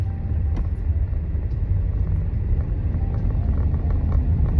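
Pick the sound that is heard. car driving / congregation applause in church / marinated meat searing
car driving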